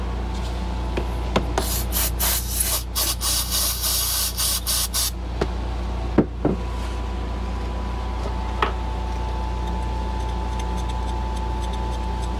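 Yamaha Blaster carburetor scrubbed clean over a loud, constant hiss, with a burst of rapid, rhythmic scrubbing strokes early on, then a few scattered knocks and clicks.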